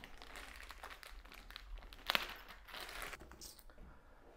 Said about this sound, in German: das befindet sich jetzt hier in der Tüte, hole ich mal raus